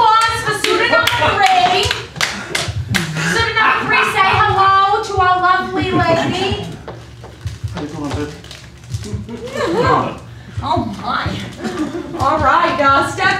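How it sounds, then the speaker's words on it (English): A live audience claps during a stage game show, quick irregular hand claps mixed with loud talking and shouting voices throughout. "Let's get a round of applause."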